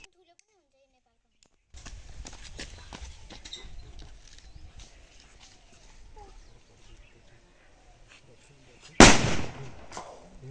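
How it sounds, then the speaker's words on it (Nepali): An aloo bomb firecracker is set off during Diwali. After a long stretch of quiet outdoor rustling and faint background activity, one loud, close bang erupts and then its echo fades out. "अब पड्किने वाला छ यो आलु बम।"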